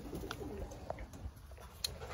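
Pigeons coo softly nearby in a short burst, low and faint against quiet background noise with a few brief chirps.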